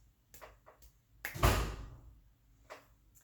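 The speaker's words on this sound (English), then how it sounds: "That was a door slamming from the wind in my house." Wind slams a door inside a house with a single heavy thud in the middle, surrounded by a few faint knocks and rattles in an otherwise quiet room.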